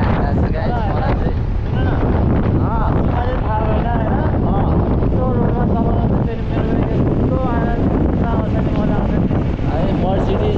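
Strong wind buffets a bareheaded rider on a moving motorbike, a loud continuous roar and rumble battering the microphone throughout, with a person talking underneath it.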